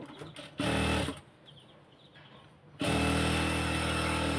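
A sewing machine runs in two loud bursts stitching the joined pieces of a salwar, with a quieter pause of handling between them and the motor buzzing steadily close by.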